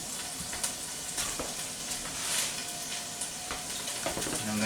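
Thanksgiving leftover side dishes sizzle and fry steadily in a pan as they are stirred with chili paste, a continuous close hiss with faint scraping and no talking.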